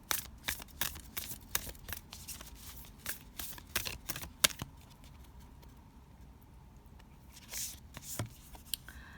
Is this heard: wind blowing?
no